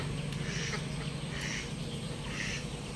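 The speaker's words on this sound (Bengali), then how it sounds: "দেখতে পাচ্ছেন হাঁসগুলো কিন্তু বেরোচ্ছে।" Native village ducks quack in a few short bursts as they leave their shed, moderately close over a constant background hum, with no talking.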